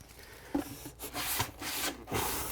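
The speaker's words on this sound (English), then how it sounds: "I'm just gonna use a hand sanding block" Hand sanding of kitchen surfaces with a sanding block: close, repeated rasping rubs in uneven strokes, each a broad scratchy burst with short pauses between.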